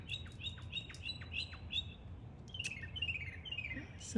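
A mockingbird sings outdoors in a garden, a run of repeated bright chirped phrases followed by a different quick trilled series, moderately distant over soft background noise.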